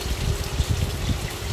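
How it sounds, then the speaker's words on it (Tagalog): Water gushes into a pan of simmering sweet and sour sauce, a steady, fairly loud pouring with a gurgling, bubbling texture throughout. "Nilagyan ko po siya ng konting tubig."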